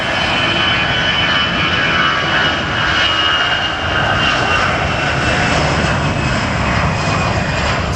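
An airplane on the north runway at LAX airport in Los Angeles makes a loud, steady engine roar that holds without a break, close and unbroken, with no talking over it.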